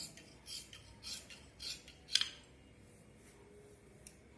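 Scissors snip through blouse fabric in a quiet room, a handful of soft separate cuts spaced about half a second apart, followed by a sharper metallic click and a faint final snip.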